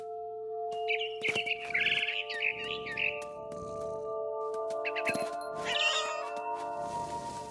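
A cat meows repeatedly in the video game What Remains of Edith Finch, with several clear, close calls over a sustained tonal music bed and a few faint chirps.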